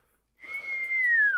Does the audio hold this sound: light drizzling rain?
no